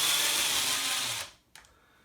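A power driver whirs steadily as it backs screws out of an ECX Ruckus 1/10 RC monster truck front bumper, then stops, and a small click follows.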